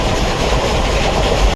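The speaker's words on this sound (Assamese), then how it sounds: "বহুত টাইমৰ মূৰত অপেক্ষাৰ মাজত ট্ৰেইনখন আহি পেলাক।" A train pulling into a station for a trip to the Ambubachi Mela, a loud, steady rumble of rail cars and wheels across the whole stretch before it cuts off abruptly at the end.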